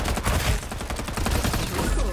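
Continuous rapid automatic gunfire in the shooter video game Farlight 84, loud and dense for two seconds with a brief dip midway, the shots blurring into a sustained rattle.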